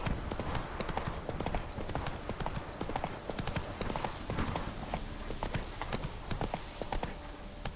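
The horse Roach in The Witcher 3 video game clatters along with dense, rhythmic hoofbeats, loud and continuous against game ambience, with a faint voice at moments.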